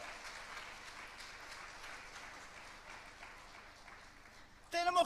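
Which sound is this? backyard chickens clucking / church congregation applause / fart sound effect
church congregation applause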